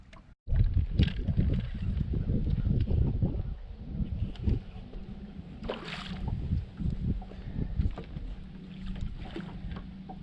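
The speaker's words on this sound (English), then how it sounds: "Wind is really blowing, making it difficult for this kind of fishing." Strong wind blows across a lake while someone fishes from a boat on Lake Lanier. It makes a loud, continuous rushing buffet with gusty swells and occasional water sloshing, and no talking is heard.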